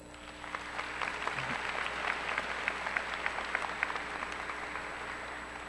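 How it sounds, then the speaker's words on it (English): Graduates at a Class of 2005 graduation ceremony clap for themselves, steady dense applause from a large crowd in a hall, continuous and fairly even, with no talk over it. "So now, give yourselves a round of applause."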